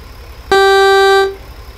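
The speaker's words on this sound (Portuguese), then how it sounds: "Vamos testar a buzina?" A truck horn in the American Truck Simulator video game blasts one loud, steady tone for under a second and then cuts off, with quiet background before and after.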